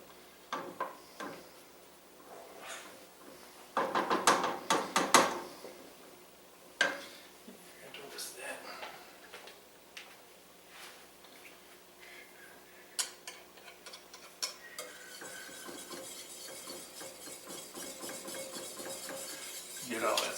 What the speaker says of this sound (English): I think I'm going to have to probably whisk this to get that.